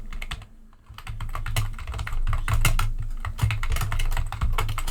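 Rapid clattering keystrokes on a computer keyboard as a git config command is typed, a close, busy run of irregular clicks that continues without pause and without talk.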